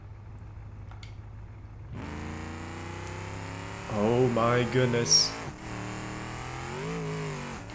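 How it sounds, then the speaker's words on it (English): In BeamNG.drive, a loud turbocharged car engine, over-torqued and fitted with the wrong exhaust, idles and then revs hard in rising, wavering bursts, while a person exclaims over it. "yep, we're making boost, and we've over-torqued the engine"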